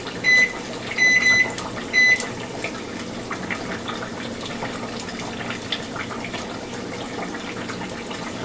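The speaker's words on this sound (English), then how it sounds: "Set my kitchen timer over on the microwave for 3 minutes." Microwave oven keypad being set as a kitchen timer while frying papanasi donuts: three short electronic beeps in quick succession near the start, then a steady background hiss of cooking and kitchen noise.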